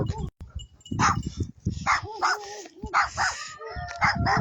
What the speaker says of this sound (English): Dogs bark. That's what they do.